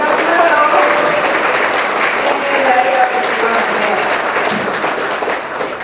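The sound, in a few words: audience applause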